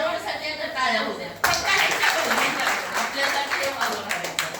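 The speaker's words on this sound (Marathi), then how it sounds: "खरोखरच तुमच्या सर्वांकडून ह्या सर्वांसाठी टाळ्या होत्या" An audience claps at an event with police in attendance, steady patter starting softly and then swelling abruptly into fuller clapping that continues to the end, with voices faintly underneath.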